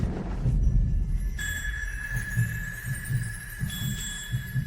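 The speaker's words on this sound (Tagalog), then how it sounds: "Bakit ang bilis ng tibok ng puso ko?" Heartbeat sound effect in a Filipino-dubbed romance drama, a steady low thumping pulse under a sustained high ringing tone that starts partway through, repeating evenly and fairly loud.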